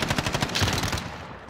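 A rapid burst of automatic gunfire in a video game shooter, shots fired in quick regular succession for about a second before the sound cuts off and fades away.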